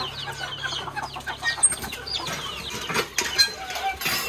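Village chickens clucking while being fed leftover rice, close by, with overlapping busy clucks and scratching bursts.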